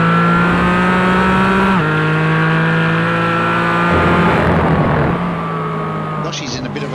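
McLaren GT4 race cars in a racing video game rev hard out of corners, a loud sustained engine whine climbing through gear shifts with tyre noise, while a commentator talks over it.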